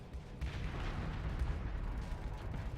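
Heavy cannon fire and explosions from Mjolnir cannons during a Starsector space battle, a dense continuous rumble of booms and blasts with no clear gaps, loud throughout.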